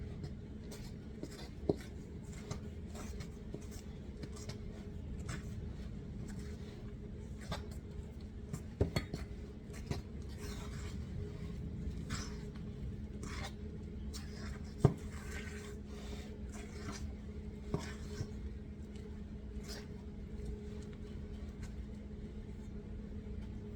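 Peach streusel muffin batter is mixed by hand in a bowl, producing soft repeated scraping and tapping strokes of a utensil against the bowl, close but quiet over a low background hum, with no talking.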